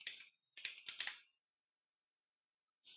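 Quick bursts of keystrokes on a computer keyboard while writing notes, a short flurry of clicks then silence before a brief return of tapping at the end.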